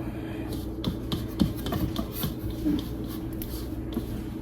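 Sourdough bread dough being scraped out of a bowl, with soft, irregular rubbing and scraping strokes and a few light knocks, close and quiet, no talking.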